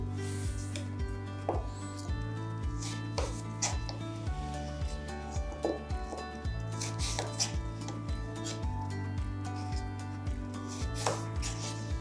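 Knife chopping through food on a cutting board with a steady run of sharp taps, the fruit being cut across and then into quarters in a home kitchen, under a constant background hum.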